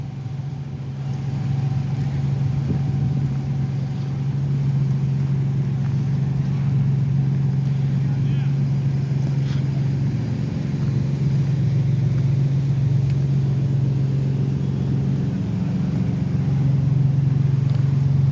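Fire trucks pass at a car crash scene where two vehicles are on fire, a steady low engine rumble that continues throughout with no clear siren.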